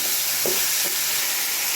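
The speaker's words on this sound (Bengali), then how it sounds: "তারপরে একটু নাড়াচাড়া করে নিচ্ছি" Chicken curry with ground spices stirred in a hot pan, giving a loud, dense, continuous sizzle with a couple of soft scraping strokes near the start.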